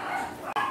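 Dogs bark close by in a single brief burst of yapping, with no speech over it.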